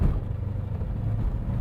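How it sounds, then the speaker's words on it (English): A 1971 Chevrolet Corvette exhaust rumbles at a steady, low, throaty idle, close and fairly loud, with no voices over it. "Listen to that exhaust."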